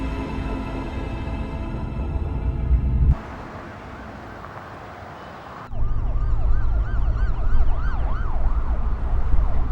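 A police car siren wails loudly and close, sweeping up and down in repeated cycles; it drops out briefly mid-way, leaving quieter road noise, then returns with strong, rising-and-falling tones over a rumbling vehicle.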